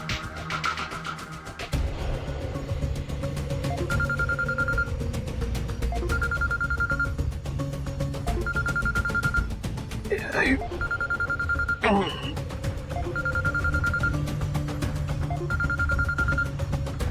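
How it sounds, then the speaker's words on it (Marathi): At night a telephone rings in regular short bursts, about half a dozen evenly spaced rings over a low steady hum, with a couple of sharp clattering sounds between them. "एवढ्या रात्री फोन?"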